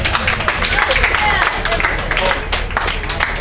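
Crowd applause at an outdoor rally in Franklin, a broad steady wash of clapping lasting a few seconds, fairly loud and continuous with some voices mixed in.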